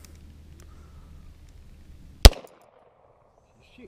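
A single sharp, loud crack from a small .380 pistol fired outdoors near a pond, cutting through a low background hum and then dropping to near silence.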